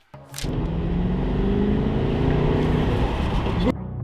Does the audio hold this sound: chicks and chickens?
no